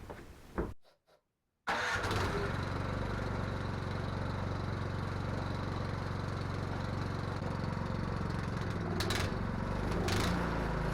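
A Troy-Bilt snow blower engine with a freshly replaced carburetor and an unreliable choke starts after a short pull and then runs on steadily, a loud, close, continuous drone lasting several seconds.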